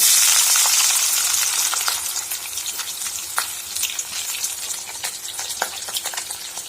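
Sizzling frying of sambar vegetables (drumstick pods, potato, brinjal, onion) sautéing in a pan, a steady bright hiss with scattered crackles and pops, close and continuous with no voices.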